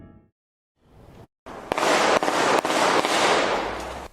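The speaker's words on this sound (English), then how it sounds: "It's the shots heard around Graduate Hospital." Gunshots ring out in a street shooting at 17th and Christian near Graduate Hospital in Philadelphia: several loud, sharp cracks in quick succession over a harsh, noisy outdoor background.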